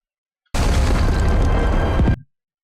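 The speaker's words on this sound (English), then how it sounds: "We get the explosion coming out." An explosion erupts in a film's train crash scene: a single, loud, rumbling roar that lasts nearly two seconds with a dense low-end blast before it stops sharply.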